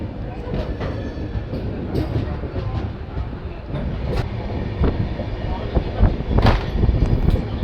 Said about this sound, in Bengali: ট্রেন ধীরে ধীরে এগিয়ে চলেছে